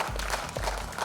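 A crowd at a Miss & Mr Teen India 2019 event applauds in a dense, continuous burst of clapping, loud and close.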